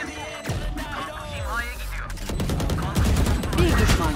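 Rapid gunfire in a Valorant match, with sharp bursts of shots layered over game effects and background noise, the firing growing denser and louder toward the end while a voice talks at the start.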